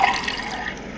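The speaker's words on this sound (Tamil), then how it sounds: "இப்போ தண்ணி பிடிச்சாச்சு." Water runs steadily from a tap into a container while making coffee, a continuous splashing hiss that stays fairly even and close, with no talk over it.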